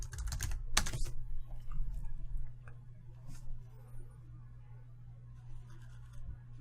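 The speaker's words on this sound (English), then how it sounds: "just type in logo design" Quick bursts of computer keyboard typing, close and crisp, clustered at the start and then trailing off into a few scattered key taps over a low steady hum.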